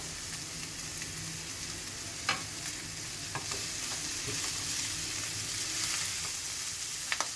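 Raw mixed vegetables for aloo cutlets cooking in a pan, a continuous soft sizzle with occasional louder pops and a few stirring scrapes, no voices.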